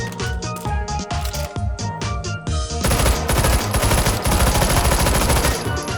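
Rapid automatic gunfire from a weapon in the H3VR virtual reality shooting game, first in short bursts and then in a sustained, loud, continuous stream of shots.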